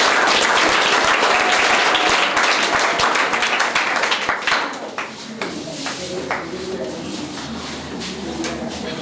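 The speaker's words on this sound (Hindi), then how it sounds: "जोरदार तालियां उनके" Dense, loud applause from a school audience at a Teacher's Day celebration fills the first half, then thins into lighter scattered clapping with some murmuring voices underneath.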